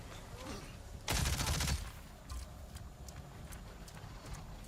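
A human machine gun fires in Avatar: Frontiers of Pandora, one loud, close burst of rapid shots lasting about half a second, then a few fainter isolated shots and game ambience.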